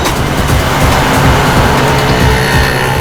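A car speeds away during a chase, its engine roaring loud and close with continuous tyre and road noise, racing hard without any voices over it.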